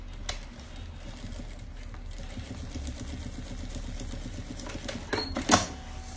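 A sewing machine stitches a backstitch in a quiet room, sounding as a close, soft, steady mechanical whir with light rapid clicks and a couple of sharper clacks near the end.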